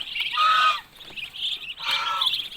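Loud, nasal honking calls from ducks close by, two strong bursts with a softer call between them.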